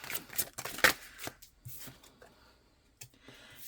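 A deck of cards is shuffled close by with quick riffling bursts, then a few softer snaps and taps as cards are handled and laid down.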